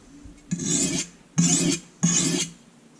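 A chipped kitchen knife being sharpened on a simple bench stone, giving three steady gritty rasping strokes in an even rhythm, close and clear with no voices.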